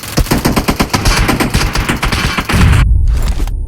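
Rapid automatic gunfire in the mobile battle-royale game PUBG Mobile, a loud dense burst of shots that gives way to a heavy sustained roar and rumble, with no voices.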